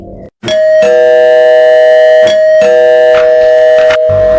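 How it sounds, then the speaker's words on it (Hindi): A loud electronic doorbell chimes close by, its ringing tones sustained and repeating several times in a steady melodic pattern. "कुछ ही देर में बाहर की घंटी दोबारा बजी।"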